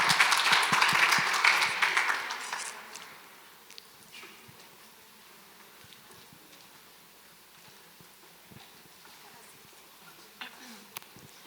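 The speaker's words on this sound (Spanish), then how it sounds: "Muchas gracias, un aplauso." An audience at a talk on education applauding, with loud clapping at the start that fades out after a few seconds, leaving quiet room noise.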